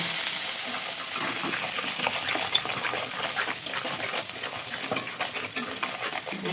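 Masala for a prawn malai curry fries in oil while a spatula stirs it, a steady sizzle with frequent scraping strokes and occasional metallic clinks against the pan.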